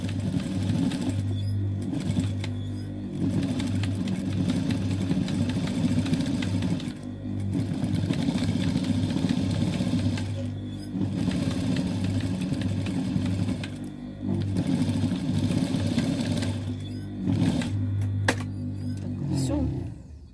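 A sewing machine darns a skirt with a continuous rapid mechanical whir, broken by brief pauses as stitching stops and restarts.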